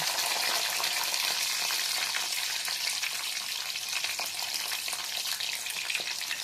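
Garlic hits hot oil in a frying pan already holding chillies, making a loud, steady, hissing sizzle that fills the whole stretch, close up and without talk.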